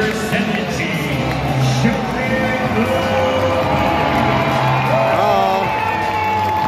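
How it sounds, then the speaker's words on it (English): A baseball crowd at an Angels game against the Twins on Country Night roars in a steady, dense wash of cheering, whoops and shouts, with a commentator's voice faintly over the noise. "The crowd is fired up."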